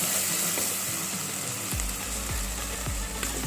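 Cinnamon, cloves, cardamom and fennel seeds frying in hot oil for a Hyderabad-style chicken pickle, with a steady close sizzle throughout and a few faint stirring scrapes, no voices.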